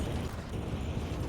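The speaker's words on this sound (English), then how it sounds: "This entire line is going to get a nuke." A nuclear strike detonates in Hearts of Iron IV, a dense, loud rumbling roar that holds steady for the whole moment with no talk.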